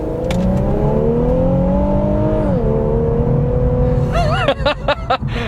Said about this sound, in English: All right, so we're gonna do a 0 to 60 now.